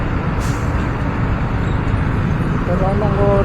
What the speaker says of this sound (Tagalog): daming traffic pag umaga.